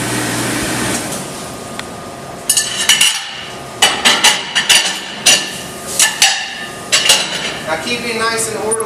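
Silverware and dishes are sorted after dishwashing, with a rapid series of sharp metallic clinks and clatters coming in quick irregular bursts, close by and fairly loud, after a quieter stretch of background kitchen noise.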